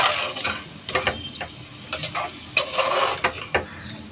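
Spices and chopped banana flower stirred in a pan, with a spatula scraping and clicking against the metal in uneven strokes over a faint sizzle, close by, no talking.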